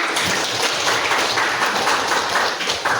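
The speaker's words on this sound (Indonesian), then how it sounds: "masih tepuk tangan untuk teman" An economics class claps for a classmate who has just answered, a loud, close burst of many hands clapping quickly and unevenly, with no talk over it.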